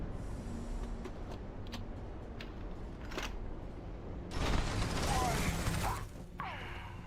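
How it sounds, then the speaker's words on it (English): Mechanical clicks and ratcheting of a weapon reload in a video game, a few sharp metallic snaps followed by a louder, denser burst of clatter near the end, close and distinct over a low background. "Oh no, I gotta reload"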